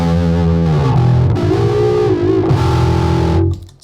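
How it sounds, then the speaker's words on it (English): Bass guitar played through a Mantic Vitriol distortion pedal, thick and gritty with sustained, shifting notes that ring loud and steady before cutting off abruptly at the end. "It's the Mantic Vitriol. It's one of my favorite sounding distortion pedals on a bass."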